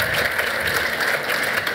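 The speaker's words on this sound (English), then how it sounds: "Round of applause," Steady applause from an audience, a dense wash of clapping with no voices over it.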